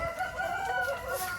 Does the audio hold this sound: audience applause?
no